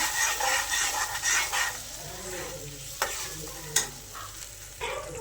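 Tomato puree sizzles and fries in a pan while being stirred for a wedding-style aloo gobhi matar sabzi, a steady close crackle with scraping stirs and a couple of sharp utensil knocks against the pan.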